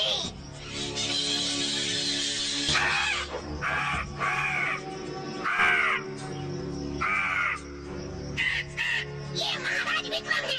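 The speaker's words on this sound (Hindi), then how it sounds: "क्या तुम लोग उस कौवे को बुला सकते हो?" A crow caws repeatedly in a series of harsh, raspy calls, some overlapping, loud and close, in an animated adventure cartoon.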